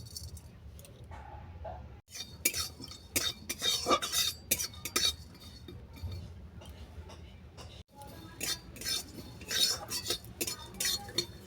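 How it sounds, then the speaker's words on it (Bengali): Whole cardamom, cloves, kathdana and five-spice dry roasting in a pan for cauliflower chutney, with irregular scraping and clinking strokes of a spoon against the metal, moderately close and without any talk. "চাটনিতে দেওয়ার জন্য কিছু মশলা আমি ড্রাই রোস্ট করে নেব।"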